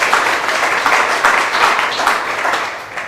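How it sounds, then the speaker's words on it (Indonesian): Loud, continuous applause from a church congregation in Cana, Israel, a dense wash of many hands clapping together throughout. "Tepuk tangan yang meriah bagi Tuhan Yesus."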